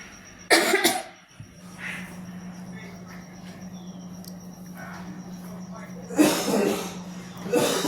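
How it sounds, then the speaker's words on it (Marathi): A person with a bad cough coughs hard in a short burst, then again later, close by in a kitchen, with a low steady hum and faint clinks between. "ह्यांना पण खूप खोकला लागला आहे, आवाज येत असेल तुम्हाला."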